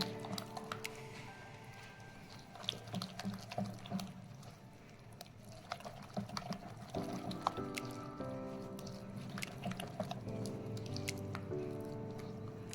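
Pithe batter is mixed by hand in a bowl, with soft, wet squishing and slapping that repeats in an uneven rhythm, close and fairly quiet.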